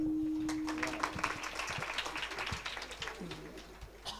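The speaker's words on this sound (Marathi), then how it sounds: "महिला मंडळ एकदा टाळी वाजवा." Women in a kirtan audience break into scattered, uneven clapping that builds and then thins out in a large hall, with a faint cooing bird and a few murmuring voices in the background.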